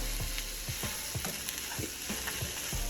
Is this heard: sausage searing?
yes